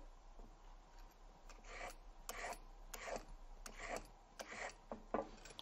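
A carrot being grated by hand, a series of about eight rhythmic rasping strokes, close and fairly quiet over a faint low hum, with no speech.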